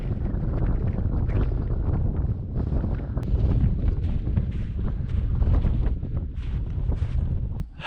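Strong wind roars across an exposed high slope of Pikes Peak, buffeting the microphone in loud, continuous, gusting rumbles that barely let up before easing slightly at the very end.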